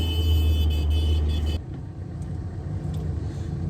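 A used Ford Figo with a 1.7-litre engine revs to about 3000 RPM with weak pickup, giving a loud, steady close engine drone that drops to a lower, rougher idle-like rumble partway through.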